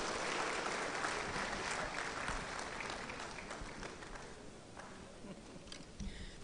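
Audience applause for the Vice Chancellor at a university summer school, a broad, sustained wash of clapping that slowly thins toward the end, with a few louder claps near the close.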